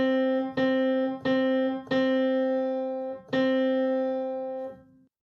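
Piano playing middle C as evenly spaced quarter notes, each struck cleanly and ringing, with a clear, quiet tone and the last note fading out.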